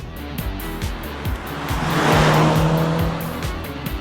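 A 245 hp Mercedes C300 petrol car with a 7-speed automatic gearbox drives by, the engine drone swelling loud as it passes close and then fading, with no one talking.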